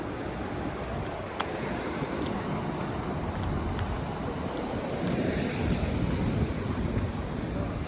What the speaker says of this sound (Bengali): বাতাসটা মারাত্মক বাতাসটা ঠান্ডা